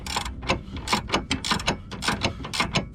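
A wrench tightens a long sway bar link stud on a 2011 Nissan Altima 2.5 SL, giving close, rhythmic ratcheting clicks in quick repeated bursts throughout.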